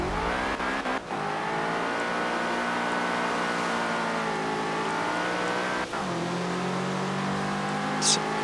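A 2013 BMW M6 Coupe Forza Edition accelerating hard in the racing game Forza Horizon 4, its engine revving loud and steady with rising pitch and quick gear changes.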